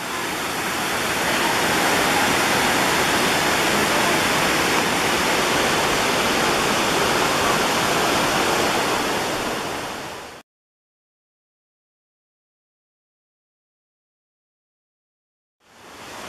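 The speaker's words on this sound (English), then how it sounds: "Got some of the rapids here." River rapids rush beside a trail in Roswell, Georgia, a loud, steady roar of turbulent water for about ten seconds that cuts off abruptly into silence and then briefly returns.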